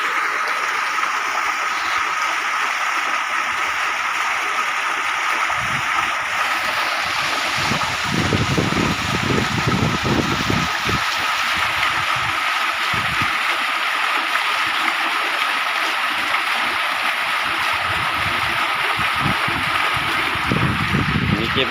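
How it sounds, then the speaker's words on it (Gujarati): Water gushes out of a borewell pump as a loud, continuous rushing and splashing roar, with heavier bursts in the middle, and a person talks over it. "કેટલું પાણી કાઢે છે. એટલે ફૂલ પાણી કાઢી રહ્યું છે."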